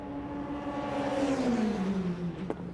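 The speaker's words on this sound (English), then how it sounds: "So the car of Guan Yu Xu that we zoom in on" A Formula 3 single-seater lapping the Norisring street circuit in qualifying whines past at high revs, its engine note pitching steadily downward as it passes, followed by a short sharp click near the end.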